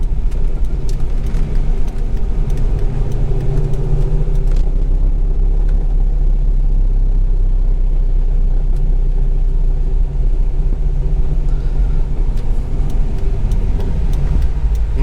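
A 2003 Corvette C5 Z06 drives on the road, its V8 engine humming and rumbling steadily with road noise throughout, loud and close from inside the car.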